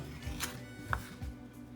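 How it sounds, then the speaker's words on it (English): A knife roughly chops fresh basil on a cutting board, giving a few quiet, irregular thuds and taps. "It's just kind of roughly chopping"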